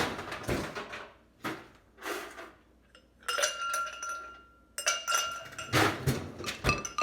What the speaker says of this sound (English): I'm gonna get myself a glass of water with some ice.